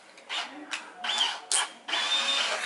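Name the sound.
drill running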